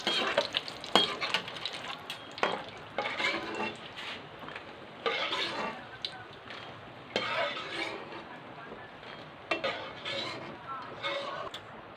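Pieces of namak pare dough fry in hot oil, a continuous bubbling crackle that swells in uneven bursts, with occasional light clinks of a utensil against the pan.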